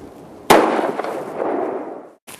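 A rifle fired outdoors from a MaxBox magnetic shooting rest: one sharp, loud shot with a long rolling echo that fades over nearly two seconds, then the start of a second report.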